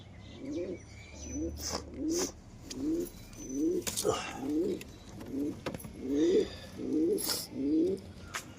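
Pigeons coo repeatedly in soft, rhythmic bursts, about a dozen calls in a row, close by, with a few sharp clatters and rustles between them.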